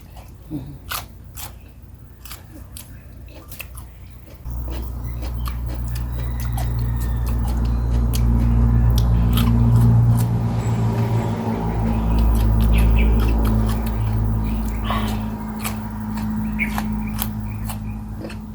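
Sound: crunchy eating of very crisp vegetables

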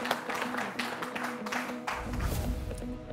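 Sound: applause welcoming the ladies

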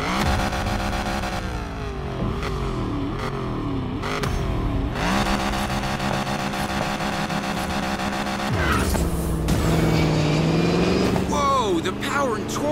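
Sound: souped-up car engine racing, Need for Speed Payback video game

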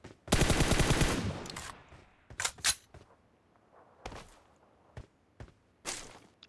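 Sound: Groza rifle gunfire in PUBG Mobile video game

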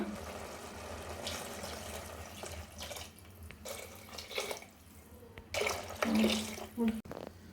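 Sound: pouring water into pot for mushroom biryani

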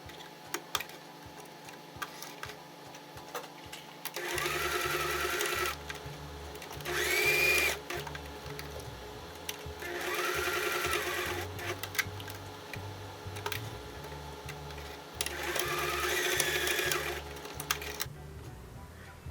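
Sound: sewing machine stitching fabric for a pen and book case

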